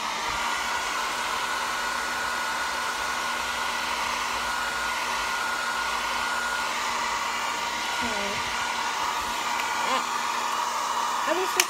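A handheld hair dryer blows continuously at close range, a steady airy whoosh with a faint motor hum, holding even throughout with no talk.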